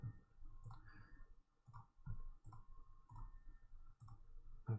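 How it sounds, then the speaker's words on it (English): Computer mouse buttons clicking in quick irregular bursts, close and fairly quiet, with short pauses between groups of clicks and no talking. "I'm just kind of clicking without thinking about it"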